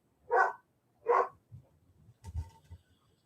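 Two sharp barks in quick succession, followed by lower scuffling, yips and thumps of dogs moving about nearby.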